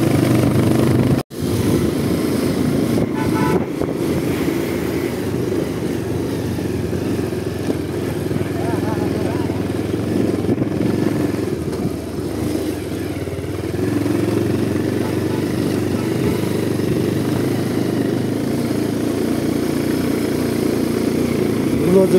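An off-road motorcycle ridden along a hill trail, its engine droning steadily and loud throughout, with a brief cut near the start and constant rattle and clatter underneath.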